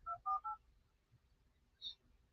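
Telephone keypad dialing tones: three quick close-spaced beeps, then one more a moment later, clear against a quiet background.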